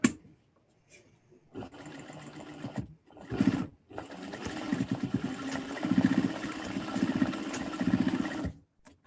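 Sewing machine stitching a seam on a drawstring backpack, running in a sustained motorised whir for several seconds after short start-and-stop bursts, close and moderately loud.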